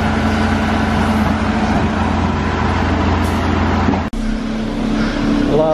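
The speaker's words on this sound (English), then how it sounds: "Last truck coming in." A concrete truck pulls in at a building site where a shed slab is being poured, its engine a loud, close, steady diesel rumble with a brief sharp dropout midway before resuming.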